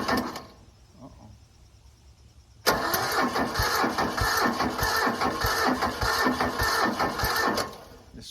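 General Lee car engine cranking slowly on a chilly morning, the starter grinding in a steady labored rhythm for several seconds after a quiet pause, then cutting off.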